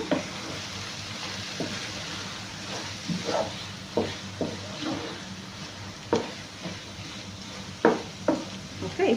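Scrambled egg with chopped greens being stirred in a frying pan, a spatula scraping and tapping the pan in irregular strokes over a steady low sizzle, close and moderately loud.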